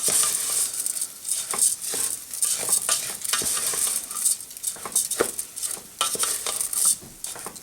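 Rice sautéing in a pan for a Spanish rice and lentil dish, with a steady sizzle under repeated scraping and stirring strokes of a utensil against the pan, close and continuous.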